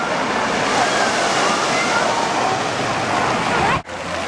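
Water from a big splash structure at a city aquatic center pours down in a continuous rushing, sloshing wash, fairly loud, then cuts briefly near the end before resuming.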